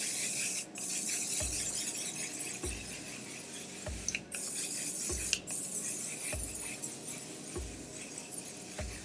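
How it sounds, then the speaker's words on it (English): A few quick bursts of One Size Until Dawn setting spray mist out at spaced intervals, each a short soft hiss against a quiet room background. "we're gonna use the One Size Until Dawn setting spray"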